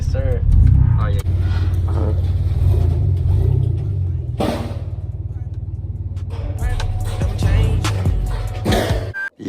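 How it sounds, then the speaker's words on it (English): A car fitted with a new Flowmaster exhaust revs with a loud, deep rumble that swells and holds, then cuts off near the end, and a voice talks briefly over it. "here's the little last Flowmaster rev"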